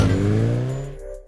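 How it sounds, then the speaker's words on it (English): A Bajaj V15 150cc motorcycle's exhaust gives a deep, bassy rev that climbs and then drops away, loud and close, one short throttle blip with no talk. "The exhaust note is meaty, deep-throated and quite bassy for a 150cc bike"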